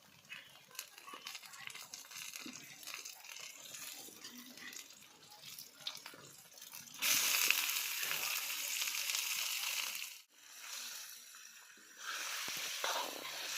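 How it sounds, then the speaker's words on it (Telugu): Chicken dropped into ginger garlic paste in hot oil in a kadai over a wood fire, faint sizzling and handling noise at first, then a louder burst of steady frying that briefly drops out and returns. "అల్లం వెల్లుల్లి పేస్ట్ నూనెలో కొద్దిగా ఫ్రై అయిన తర్వాత చికెన్ వేసుకోవాలి"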